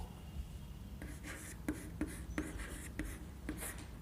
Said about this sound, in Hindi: चलिए हम लिखते हैं इसको